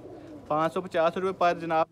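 Pigeons in a breeder's stock offered for sale, including a green-barred bird, coo softly beneath someone speaking close by for most of the two seconds.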